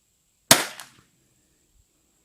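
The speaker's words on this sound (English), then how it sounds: "for the first few rounds in this thing, really nice rifle" A single sharp crack from a Zermatt Arms RimX rimfire rifle rings out close and loud, then decays quickly into near silence with no talking.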